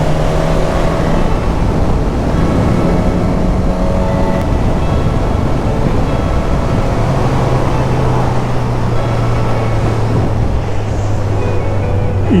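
A Suzuki GSX-S motorcycle cruising on the motorway gives a loud, steady engine drone mixed with heavy wind rush, holding a constant pitch with no pauses.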